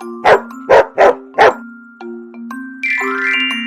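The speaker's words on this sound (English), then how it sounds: "what sound does a dog make?" A dog barks four quick, sharp times close by, followed by a sustained chiming tone like a doorbell, in a bright kids' classroom sound effect.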